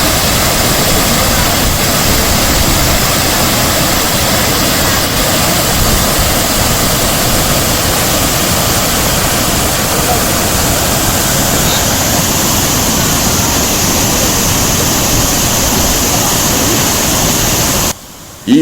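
Kanthanpara waterfall roars as a dense, unbroken wall of crashing water, loud and close, filling the whole stretch without pause before cutting out abruptly at the very end.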